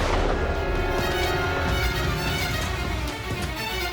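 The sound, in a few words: gunshot sound effect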